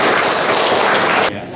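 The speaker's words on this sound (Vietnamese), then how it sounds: "Xin quý vị một tràng pháo tay cho Mục sư Nguyễn Nhật Tạo." Audience clapping at a Fresno fundraising event, a dense, loud burst of applause that fills the space and then drops off abruptly.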